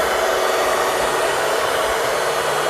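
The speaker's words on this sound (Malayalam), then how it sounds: "ഏകദേശം ഒരു 10 മിനിറ്റ് ഇപ്പോൾ ഞാൻ ബീറ്റ് ചെയ്തിട്ടുണ്ട്." An electric mixer beats cream cake batter in a steady, loud, close whir with no pauses or talk.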